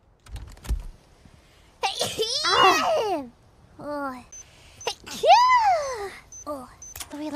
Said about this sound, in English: She's gonna sneeze.